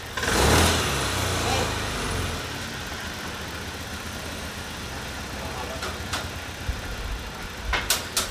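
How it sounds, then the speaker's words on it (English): A Honda Beat scooter idles after its throttle body was cleaned and its IACV solenoid valve refitted, a steady low engine hum after a louder start, with scattered clicks and light handling noise near the end. "Maganda na yung kanyang idle."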